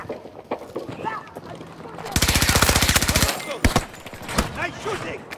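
Burst of rapid automatic gunfire in the video game Battlefield. A fast, loud rattle runs for about a second amid scattered single shots and combat noise, with voices shouting over the fight.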